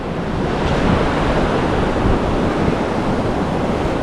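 Surf on a beach at Karon, Phuket, Thailand, a loud continuous wash of breaking waves mixed with wind buffeting the microphone, with no voices heard.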